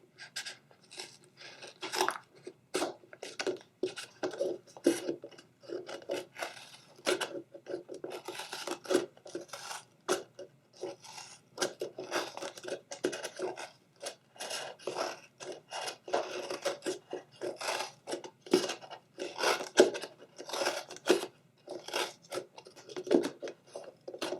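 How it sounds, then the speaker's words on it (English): Scissors snip and crunch steadily through the top rim of a plastic container in an upcycled craft, with close, rapid, irregular cuts and scraping and no talk. "So I'm just going to cut the rim off of here."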